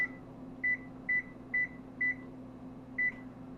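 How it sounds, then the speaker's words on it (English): An oven's control panel beeps as it is set to 400 degrees: six short, clear electronic tones at uneven intervals over a faint, steady appliance hum in a quiet kitchen. "Going to set the oven at 400 degrees."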